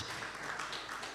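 Brief, soft patter of audience clapping at a surgical colloquium opening ceremony, a low, even wash of many hands heard from a distance.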